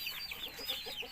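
Newly hatched ducklings in their pen make rapid, high-pitched peeping chirps close by, a busy overlapping chorus of short calls.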